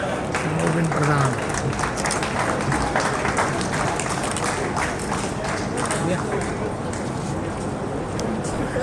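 An audience claps steadily for an award recipient being welcomed onto the stage at an environmental award ceremony, with dense, continuous applause and speech mixed underneath.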